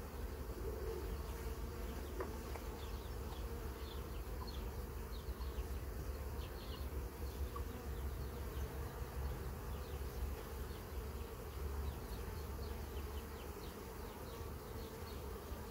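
Honeybees buzzing around a new beehive, a faint steady swarm drone with individual bees flitting past now and then, continuous throughout and free of talk.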